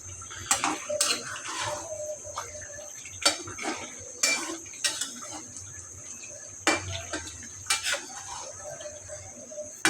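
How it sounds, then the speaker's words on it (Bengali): Cut potatoes being stirred into beef curry in a metal pot, with repeated sharp spoon clanks and scrapes against the pot at irregular intervals over a low simmering background. "আলুটা দিয়ে ভালোভাবে নেড়ে নেব"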